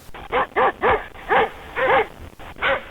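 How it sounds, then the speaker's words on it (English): A dog barks on a recording in a quick series of short, sharp woofs, about seven in a row, fairly close and clear with no talking. "Dog."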